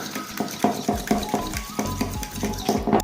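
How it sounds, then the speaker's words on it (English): A fork whisks 400 grams of plain yogurt in a big bowl, making quick, rhythmic clinking and scraping strokes, about three per second, close and steady without talk. "Whisk it with the help of a fork"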